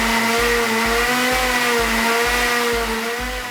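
A blender purees onion, ginger and garlic into a smooth sauce, its motor whining loud and continuous with a steady pulsing throb underneath, close up with no talk.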